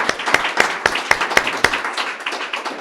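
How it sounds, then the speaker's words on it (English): A short round of applause for panelists at an Arctic landscapes talk, with a few prominent claps in a near-regular beat over softer scattered clapping, thinning out toward the end. "we should thank our panelists with a short round of"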